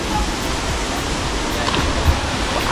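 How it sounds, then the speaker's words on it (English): Kambagahay Falls in Siquijor, a broad steady roar of rushing water, close and loud, dense and unbroken throughout with no distinct voices. "Can you hear that? There's the Kambagahay Falls."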